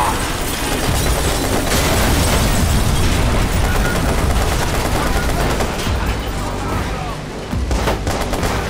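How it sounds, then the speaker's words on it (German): Rapid bursts of gunfire from shooting in the video game Watch Dogs, dense and continuous with loud machine-gun-like volleys and some booms, filling nearly the whole stretch. "Ja, Watch Dogs kann man auch mal schön ballern und einfach draufhalten, wenn wir immer so viel Munition haben"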